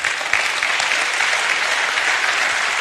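Loud, dense applause from an audience at a business talk, sustained and even throughout the short stretch, honouring the homemakers who stood up in the crowd.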